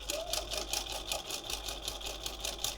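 Sewing machine stitching soft fleece fabric, a fast, even mechanical chatter of needle strokes repeating steadily at close range with no talk.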